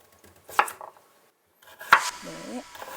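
A kitchen knife strikes a cutting board in sharp, separate chops, about three strokes spread over a few seconds with pauses between them, close and fairly loud. A person's voice joins briefly near the middle.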